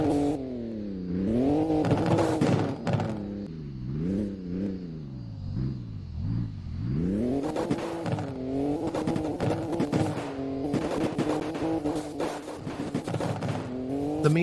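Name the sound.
Nissan Skyline R32 engine revving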